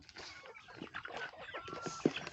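Rhode Island Red chickens, a dual-purpose meat and egg breed, cluck softly in a farmyard, a busy mix of low, scattered clucks with one sharper call standing out.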